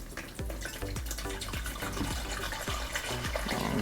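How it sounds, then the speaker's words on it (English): Tap water runs and splashes steadily into a container to fill a coffee maker with a grinder, a faint, continuous pouring sound with small drips. "So just getting some water here"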